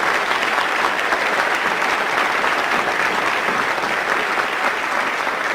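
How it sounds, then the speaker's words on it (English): A hall of fame ceremony audience applauds three honorees, a dense, steady wash of clapping at a constant loud level throughout, with no voices over it. "Please, a round of applause for these 3 great honorees."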